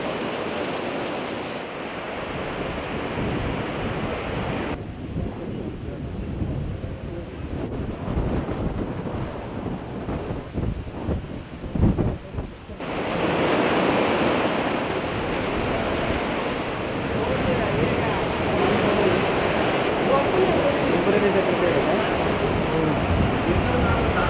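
Heavy downpour over Guntur and Krishna districts near the AP Secretariat in Amaravathi, a dense steady roar of rain with wind buffeting, a brief quieter lull midway, then loud continuous rainfall to the end.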